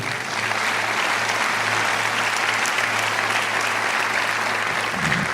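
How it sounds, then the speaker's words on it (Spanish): Loud, sustained applause from a church congregation during a service, a dense steady wash of clapping that runs throughout with a faint low hum beneath. "Vamos a dar un aplauso fuerte al Señor."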